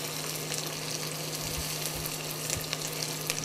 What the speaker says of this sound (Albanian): Unë prandaj e trazoj vazhdimisht, të zbutet edhe pak edhe do t'jec mishin në mënyrë që të skuqen njëkohësisht.